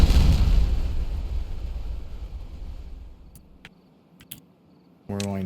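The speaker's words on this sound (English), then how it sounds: "We're gonna detonate all this." Dynamite detonation in the Timberborn video game, a loud booming blast that rumbles and fades over a few seconds, followed by faint scattered ticks and a brief burst of tonal sound at the end.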